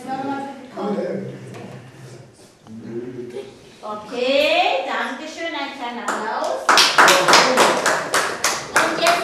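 Small group at a children's puppet activity giving brief applause, a burst of sharp close claps at the end that follows speech and a voice.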